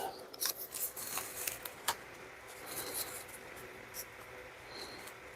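Scissors trimming a leather axe mask into a more decorative shape, close and quiet, with a run of short crisp snips and rustling of the leather.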